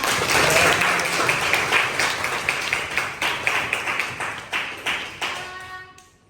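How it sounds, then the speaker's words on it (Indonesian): A classroom of students bursts into loud, close applause, a dense wash of clapping that gradually breaks into rhythmic pulses before stopping abruptly. "Tepuk tangan untuk kita semua."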